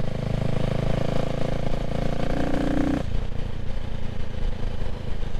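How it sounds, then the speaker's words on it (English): A Triumph Street RS motorcycle engine idling up close: a steady, loud, throbbing rumble that holds throughout, with a slight shift in tone partway through. "It sounds wonderful, this bike."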